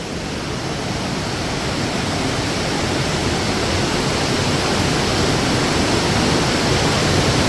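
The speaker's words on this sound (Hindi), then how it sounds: "पानी का बहाव आप लोग देख ही रहे होंगे कि पानी का बहाव कितना तेज़ हो रहा है" Fast mountain river water near Kedarnath pours past in a loud, close, unbroken roar of rushing flow that stays constant throughout.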